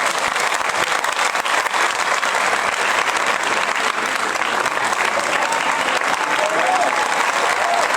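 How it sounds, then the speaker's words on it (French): An audience at the Mohammadia School of Engineers applauds with sustained, dense clapping that stays loud and even for several seconds, with faint crowd murmur mixed in. "Des applaudissements pour Walid Belmehdi"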